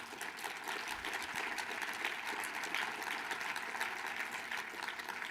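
An audience in a health-policy conference plenary hall breaks into dense, continuous applause that holds steady for several seconds. It sounds somewhat distant and soft, with no speech over it.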